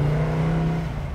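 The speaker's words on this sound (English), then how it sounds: "Listen to that exhaust." A 1968 Ford Mustang Bullitt with a five-speed rumbles steadily through its exhaust while driving among traffic, a deep, even drone held for just over a second with no talk.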